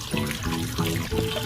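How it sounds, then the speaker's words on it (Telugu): Water runs from a kitchen tap as raw chicken is washed under it, a steady close splashing with a slightly uneven churn over a short stretch. "ఫస్ట్ చికెన్ ని వాష్ చేసుకుందాం."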